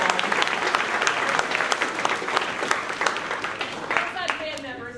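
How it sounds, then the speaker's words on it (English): Loud, dense applause from a spring concert audience honoring student performers, many hands clapping close and steady for several seconds, with a few cheers and voices mixed in before it thins near the end. "If we could give them a round of applause."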